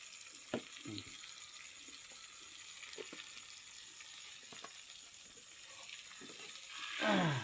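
Spices frying in a pan with fish, a soft steady sizzle broken by scraping stirs and a few clinks, growing louder toward the end, with no talk.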